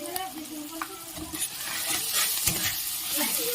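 Ground chilli and cumin powder being stirred and fried in oil in a pan for a dhaba-style egg tarka, a continuous close sizzle with scraping stirring strokes, while a voice speaks over it.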